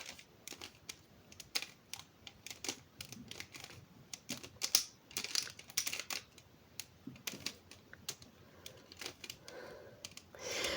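A mirror Rubik's cube being twisted by hand, a quick irregular series of dry plastic clicks and snaps, close and quiet with no talking.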